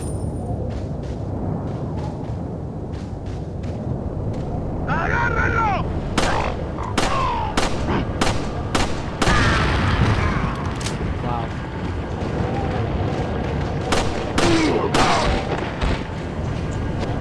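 Gunfire in the Resident Evil 4 video game, a series of loud sharp shots spaced irregularly, some in quick bursts, over a dense rumbling game soundtrack while a player talks throughout.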